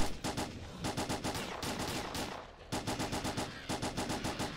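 Rapid automatic gunfire in S.T.A.L.K.E.R. Clear Sky, loud sustained bursts of fast shots with brief pauses between volleys, dense and close.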